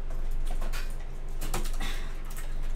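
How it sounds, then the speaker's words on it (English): Clicky typing on a Cooler Master Quickfire Rapid TKL tenkeyless mechanical keyboard with Cherry MX Blue switches: a quick run of close, crisp keystrokes over a steady low hum, with no talking. "This is the Cooler Master Quickfire Rapid TKL, and it's a Cherry MX Blues."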